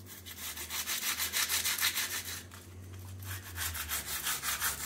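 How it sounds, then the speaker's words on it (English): Sandpaper rubs back and forth along a hairline crack in a painted plaster wall, a steady rhythmic scratching of repeated strokes with a brief pause midway, close and fairly loud with no talk. "get a bit of sandpaper and get in there and just define that V"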